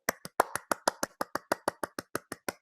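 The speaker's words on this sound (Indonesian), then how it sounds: "Tepuk tangan lebih kencang lagi." A group of children at a church kids' service clapping in unison, about fifteen sharp, evenly spaced claps in a steady rhythm, loud and close with no voices over them.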